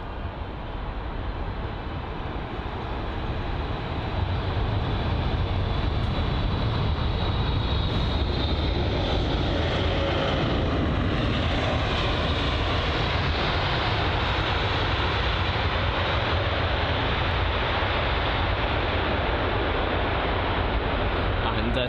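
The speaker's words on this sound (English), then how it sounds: "That's the Kuwait Airways Boeing 777." Kuwait Airways Boeing 777-300 arriving at London Heathrow: a broad, steady jet engine roar that swells slightly and holds loud throughout, with wind noise across the microphone.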